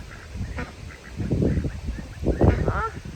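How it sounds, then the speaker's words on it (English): Outdoor waterfowl, ducks after a tropical storm, give a few loud, rough honking quacks in short bursts, close by, with a person's voice mixed in. "Hey, ducks. How'd you enjoy the tropical storm?"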